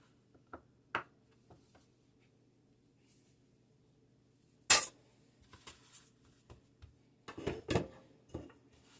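A knife cuts a pot bake loaf in half on a kitchen surface: a sharp slicing crunch near the middle, then a cluster of small knocks and scrapes, with scattered light taps earlier, close and fairly quiet.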